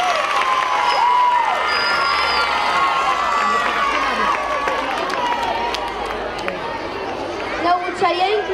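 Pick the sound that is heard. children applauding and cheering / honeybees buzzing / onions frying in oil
children applauding and cheering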